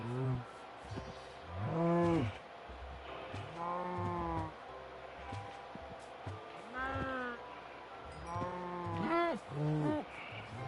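Several cattle in Minecraft moo in turn, long drawn-out lowing calls repeating every couple of seconds over a steady ambient background, fairly close and loud.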